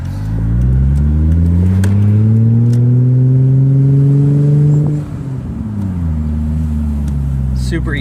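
A 1989 Toyota Mark 2 GT twin turbo being driven, its engine revving up smoothly and steadily before a gear change drops the pitch, then climbing again, loud and close inside the cabin while someone talks.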